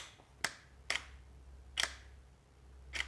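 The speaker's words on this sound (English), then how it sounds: "You can hear that second shutter getting a little longer there" A camera shutter fires four times during long exposures of a house interior, each a crisp double click. The gap between the clicks stretches as exposures lengthen, close and faint over a low room hum.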